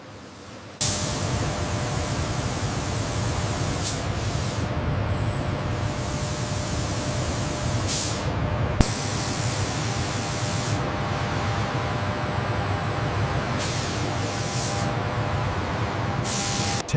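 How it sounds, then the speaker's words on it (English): Robotic arms spray primer onto a Toyota Land Cruiser body inside a factory primer booth, a loud, continuous hissing rush with a few brief breaks and pulses, steady and close throughout. "Inside the primer booth, synchronized robotic arms ensure a flawless application across the Land Cruiser body."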